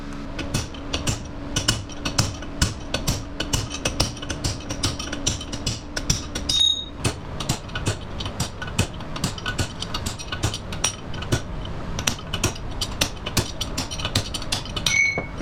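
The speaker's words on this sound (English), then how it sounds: "You just tap it side to side until it falls out." Old bearing races tapped out of a Mopar 8 3/4 differential case with a hammer, giving rapid metallic knocks in a steady irregular stream, close and fairly loud with no speech.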